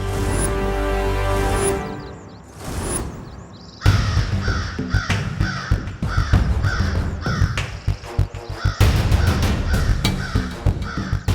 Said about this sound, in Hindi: त्रिनेत्री काक पक्षी।